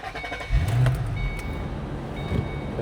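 A 2007 Ford Mustang Shelby GT500 pulls away with a brief low engine surge, then settles into a moderate rumble heard from inside the car, with a thin high whine running faintly underneath.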